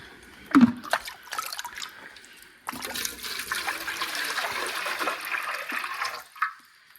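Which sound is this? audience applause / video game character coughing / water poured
water poured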